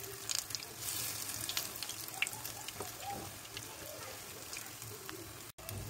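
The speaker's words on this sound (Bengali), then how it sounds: "একটা একটা করে বড়া এই গরম তেলের মধ্যে আমি একটা একটা করে বকফুলকে ছেড়ে দিচ্ছি" Bokful (Sesbania flower) fritters frying in hot oil, giving a steady close sizzle and crackle that runs through the whole stretch, with one brief dropout near the end.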